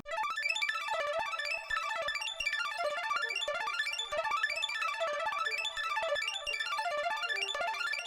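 Synth arc layer textured with Portal and Shiverbox effects, a dense, glittering stream of high rapid arpeggiated notes swirling and panning steadily, bright and fairly quiet with no voices.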